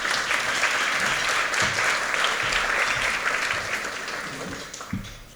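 A room full of people applauds outgoing ABC news chief Gaven Morris, a dense, even roll of clapping that holds steady before easing slightly toward the end.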